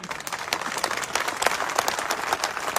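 A crowd at a live political speech in Jhunjhunu breaks into loud, sustained applause, dense and steady clapping from many hands throughout.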